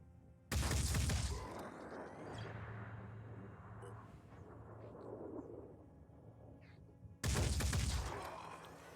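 Gunfire in the Phoenix Point game: two loud, heavy bursts of shots several seconds apart, with a quieter rumbling tail and faint clatter between them.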